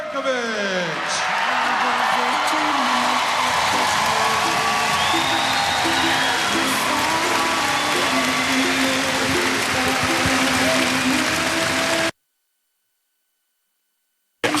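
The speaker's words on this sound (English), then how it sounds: "How appropriate was the clap by the crowd here at the Stan Sheriff Center?" An arena crowd at the Stan Sheriff Center during a Hawaii men's volleyball match claps and cheers, a dense sustained roar of applause with whoops and a voice over it, cutting to silence near the end.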